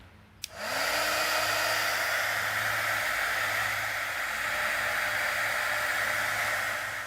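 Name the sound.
heating Cadillac grill emblem before removal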